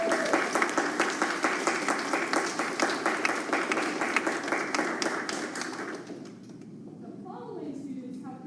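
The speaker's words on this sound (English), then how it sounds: "Let's give these students a round of applause." An audience applauds students at a 6th grade band concert: dense, steady clapping from a crowd that fades out after about six seconds, followed by a brief voice.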